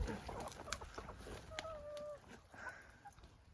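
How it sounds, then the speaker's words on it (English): Chickens cluck in a messy chicken run, with short, close clucks and soft rustling scattered through a few seconds of outdoor background. "Chicken runs always look proper messy, don't they? It's because the chickens have fun scratching around."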